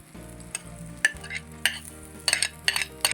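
Crushed fresh garlic sizzling and frying in a pan with whole cumin seeds, a spoon scraping and stirring in short bursts over a steady low crackle.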